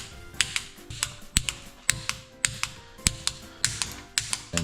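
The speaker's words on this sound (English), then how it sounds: "I love the snap of this torque wrench." A torque wrench ratchets and snaps repeatedly while tightening the oil pan bolts on a bagger motorcycle, producing crisp, close, rhythmic clicks at a steady pace, alone with no talk.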